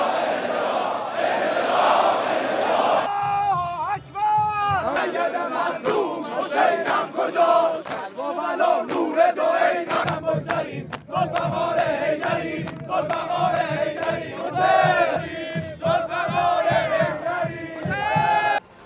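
Massive crowd at Khamenei's state funeral in Tehran chanting slogans in loud rhythmic unison, voices surging and falling in waves over a dense background roar.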